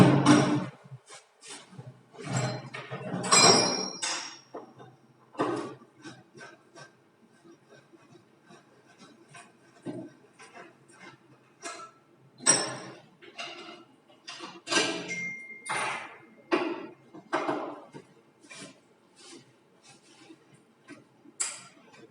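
Metallic clicks, taps and scrapes come from tools and parts as the clutch cover is taken off a Hero Splendor engine. The sounds are close and sharp, come in irregular bursts with pauses, and no one speaks.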